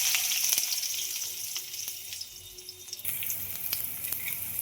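Onions frying in a pan with mustard seeds and cumin, a soft hissing sizzle with light crackles and a brief stir, close and steady with no talk.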